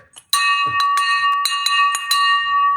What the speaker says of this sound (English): I'm ringing this victory bell for you